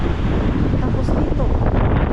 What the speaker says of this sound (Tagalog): Hala, ang lakas ng hangin.